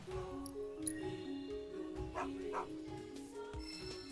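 A dog in the video game Final Fantasy 7 Rebirth gives a few short barks and yips over a melodic game music score, heard faint and mixed in with the music.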